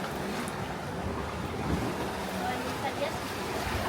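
Ocean waves washing around a sailboat on an Atlantic crossing from Cape Verde to Martinique, a constant close rush of surf with wind noise, and voices talking now and then.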